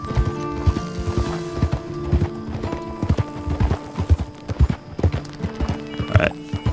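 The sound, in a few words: horses' hooves clip-clopping in the video game Red Dead Redemption 2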